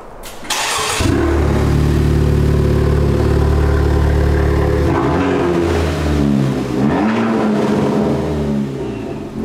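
A Honda Civic Type R engine cranks and starts, then idles loud and raspy before revving up through an open, droning resonator-delete exhaust up close.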